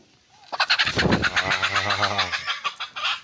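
Native chickens cluck and squawk close by at their nests in a rapid, busy series of calls, with faint voices mixed in.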